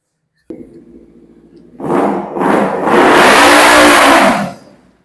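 A motorcycle idles, then its engine is revved loudly several times, building into a sustained roaring rev before easing off.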